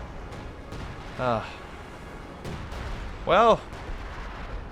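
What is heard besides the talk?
artillery fire in video game Company of Heroes 2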